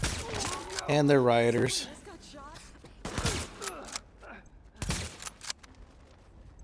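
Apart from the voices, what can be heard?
gunfire in The Division video game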